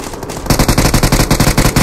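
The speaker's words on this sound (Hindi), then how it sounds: "कुछ गोली चल रही है" Rapid automatic gunfire from the BGMI battle royale mobile game breaks out after a brief lull, a loud, steady rattle of closely spaced shots continuing without pause.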